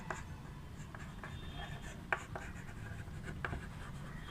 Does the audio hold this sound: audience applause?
no